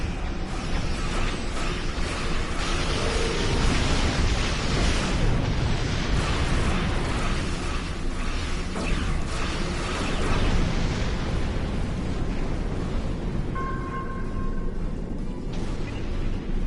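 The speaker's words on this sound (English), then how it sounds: "Target shields have failed. Recommend torpedo launch now." Star Trek Online starship combat with torpedo launches and explosions: a dense, continuous roar of blasts and rumbling booms fills the whole stretch, loud and unbroken, with faint tones near the end.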